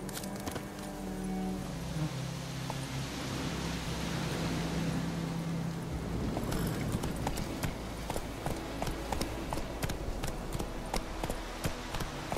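Roach, a horse in The Witcher 3 video game, clip-clopping at a steady run, the rapid hoof beats close and clear over a broad rushing wind-like noise, with a short spoken line near the start.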